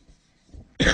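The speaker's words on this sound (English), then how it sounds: "Excuse me, I have a cough." A single short, sharp cough at the end of a quiet moment during a lecture, close and clear.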